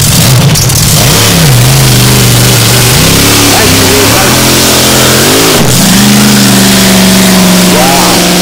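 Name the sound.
racing powerboat engine roaring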